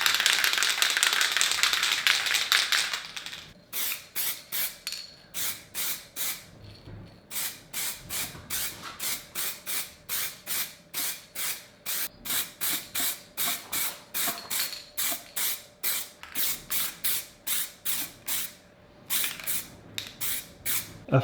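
An aerosol can sprays paint onto a part from a Yamaha YZF1000R Thunderace motorcycle indoors, first in a long hiss and then in many short, evenly spaced bursts, close and without talking.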